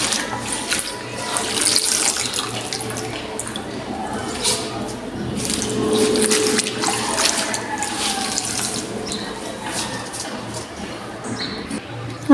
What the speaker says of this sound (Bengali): এখন সবজিগুলো ভালো করে আমি ধুয়ে নিতেছি